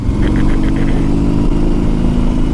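A 2004 Harley-Davidson Road King Custom motorcycle engine rumbles loud and steady while riding, a deep continuous throb with no gaps and no talk.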